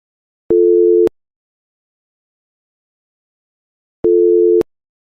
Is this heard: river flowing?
no